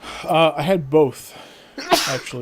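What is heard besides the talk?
sneeze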